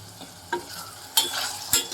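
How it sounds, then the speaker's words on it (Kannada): Cauliflower, capsicum and carrot sizzle in hot oil for a vegetable curry, with a steady fry hiss broken by three sharp clanks and scrapes of a stirring spoon against the pan. "ಎಣ್ಣೆಯಲ್ಲಿ ನೀಟಾಗಿ ಈ ಥರ ಫ್ರೈ ಮಾಡಬೇಕು"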